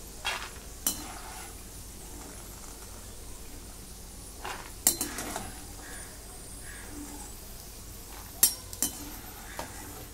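Peanuts fried golden over medium heat are lifted out of hot oil in a kadhai, with a soft sizzle beneath several metallic scrapes and clinks of a slotted spoon against the pan.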